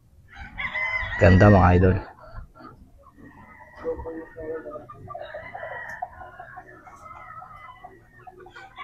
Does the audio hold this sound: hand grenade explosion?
no